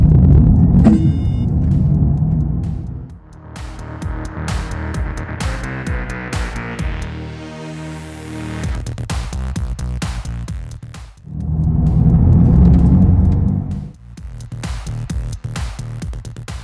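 Mercedes-Benz EQE AMG 43 electric car, 2023 model, driving on the road. Loud interior rumble swells and fades in waves, with surges of motor and road noise building at the start and again near the end.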